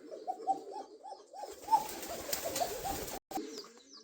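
Local fancy pigeons cooing in captivity, a series of soft rhythmic coos close by, rising and falling in a repeated pattern, with faint background noise and a brief dropout near the end.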